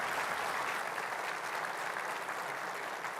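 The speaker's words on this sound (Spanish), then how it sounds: "Un aplauso para Gabriela Santos por su presentación." Steady applause from an audience, a dense wash of clapping hands that holds evenly throughout at moderate volume.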